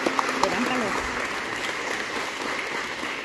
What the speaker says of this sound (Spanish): Pues le vamos a dar un aplauso a los nuevos hijos de Dios